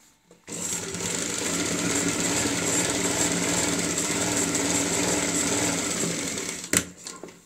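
A sewing machine runs continuously for several seconds, stitching the patchwork neck of a kurti, a close, steady whirring drone that starts abruptly and stops near the end with a few clunks.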